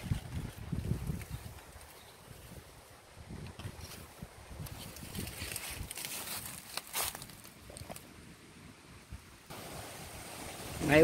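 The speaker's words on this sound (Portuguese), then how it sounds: "Aí hoje está ventando bastante, né?" Wind blows through a cashew orchard in steady rushing gusts with buffeting against the microphone, rising and falling and growing stronger near the end.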